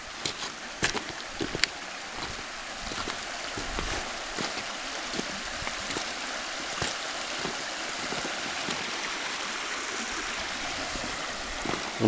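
A small river flows in a steady, soft rushing wash outdoors, with a few brief splashy knocks early on and no one speaking.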